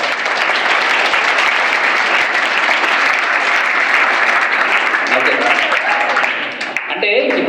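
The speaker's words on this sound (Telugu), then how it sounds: "గట్టిగా చప్పట్లు కొట్టాలి" An audience at a law awareness seminar for girl students in an Urdu-medium high school claps loudly in a dense, continuous burst. The applause thins out near the end as a voice comes in.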